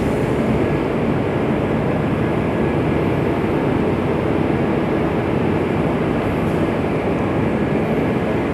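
The Banyu Biru passenger train waits at a station platform, a constant loud low rumble and hum of engines and machinery with no distinct events, steady from start to finish.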